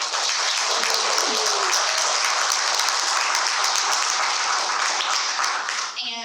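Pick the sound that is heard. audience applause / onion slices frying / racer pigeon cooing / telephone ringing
audience applause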